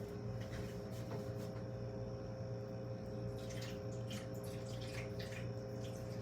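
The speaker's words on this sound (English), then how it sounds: "So what I do is I fill it up with purified water." Purified water running steadily into an ice tray, a continuous soft splashing flow over a constant low hum, with no talking.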